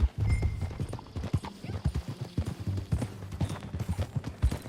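Horse hooves gallop in a rhythmic, close clip-clop across the Western landscape of Red Dead Redemption 2, with a few faint snorts and leather creaks under the steady beat.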